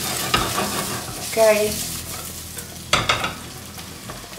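Guanciale fries in a pan with a steady crackling sizzle, broken by a couple of louder stirring scrapes and clatters, while a voice speaks briefly.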